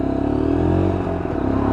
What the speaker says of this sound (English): a lovely sound from that exhaust